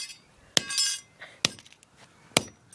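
A hammer strikes glass three times, each hit a sharp, bright clink spaced about a second apart, close and clear, with a faint ringing after the first hit and no talk.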